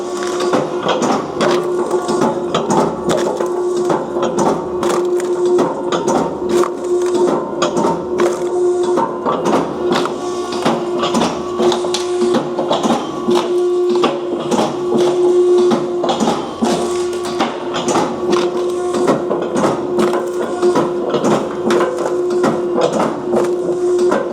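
An Electric Kindlet 200 kindling splitter runs continuously, splitting wood into kindling and mini firewood, with a steady mechanical drone, a persistent tonal hum and a dense stream of cracking and clattering of splitting wood.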